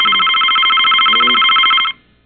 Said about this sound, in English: Is that your phone or mine?